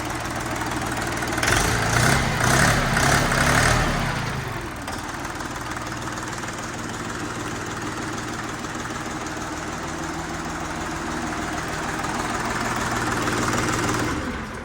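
A Bulat 244L tractor's diesel engine runs steadily at idle, a continuous low rumbling chug, close up, with a louder rattling stretch near the start.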